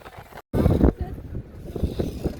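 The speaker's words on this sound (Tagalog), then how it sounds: "Ang lakas ng hangin." Strong wind gusts outdoors during a Holy Thursday outing, a deep roaring buffet across the microphone that swells and eases throughout, with a voice talking underneath.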